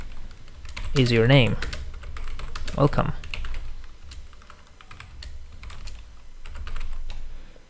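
Someone types quickly on a computer keyboard while writing beginner Python code. Crisp clicks run steadily throughout, close and moderately loud, under a voice that speaks briefly.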